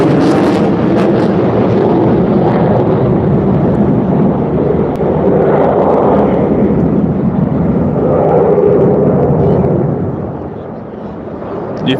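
Eurofighter Typhoon jet roaring overhead at the Blackpool airshow, a loud sustained broadband rumble that swells and fades slightly before easing off near the end.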